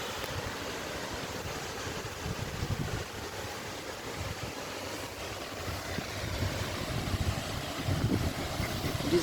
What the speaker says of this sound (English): how God has created the waterfall